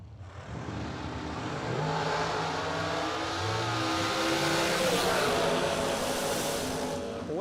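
A dragster engine revs loudly and steadily at a drag strip bracket race during a first-round pass, a dense continuous roar with rising pitch sweeps, close and sustained throughout with no talk.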